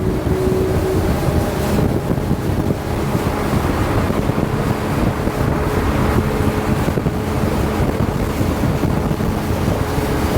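A 2024 Seahunt Gamefish 28 boat speeding up to about 40 on open water, with a steady loud outboard roar, rushing hull and water noise and heavy wind buffeting throughout, no talk.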